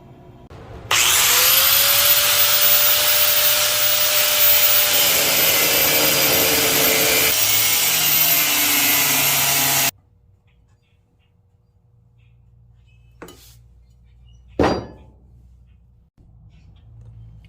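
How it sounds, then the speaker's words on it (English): An angle grinder cuts off a mini bike motor bracket in one loud, close, continuous whine lasting about nine seconds, then spins down to near silence, followed by a couple of sharp knocks. "I'll grab a grinder and I'll cut this off for now"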